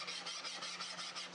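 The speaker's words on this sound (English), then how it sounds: "sand the bevel without having to have my sanding stick at too much of an angle." A sanding stick rubs back and forth along a bevel in steady, rhythmic rasping strokes, close and fairly quiet, with no talking.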